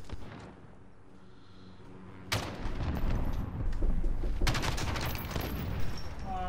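Rapid automatic gunfire rings out in Call of Duty: Modern Warfare, a sudden loud crack followed by sustained bursts of shots that continue in quick succession after a quieter lead-in.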